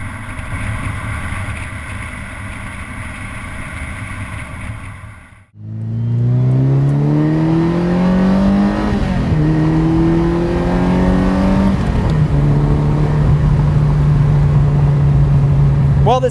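A Ferrari 328 GTS with an 8-cylinder engine on a test drive on an October day: a steady idle gives way to a loud, close V8 rising through the revs, with audible gear changes as it keeps climbing.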